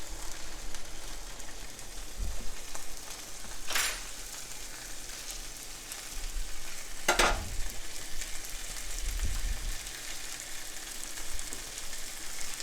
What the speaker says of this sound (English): I'm just going to brown both sides a little bit for the flavor that gives